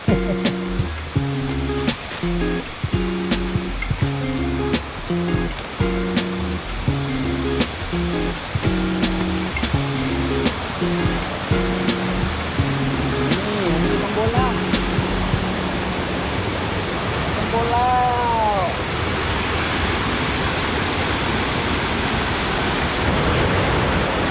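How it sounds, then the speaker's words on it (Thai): Si Sangwan waterfall gives a constant roaring rush of falling water, heard under rhythmic music through the first two-thirds and then on its own, broad and steady. "จะลงไปที่น้ำตกสีสังวานครับ นี่ น้ำตกสีสังวาน"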